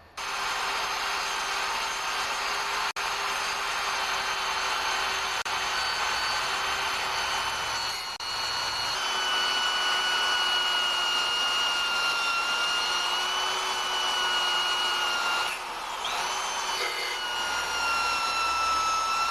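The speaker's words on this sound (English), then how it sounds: "And I'm going to use my drill with a wire brush at the end." An electric drill spins a wire brush against the carbon-coated piston of a vintage Honda generator, a sustained high whirring grind with a steady tone, briefly dipping and changing pitch as the pressure shifts, alone and close.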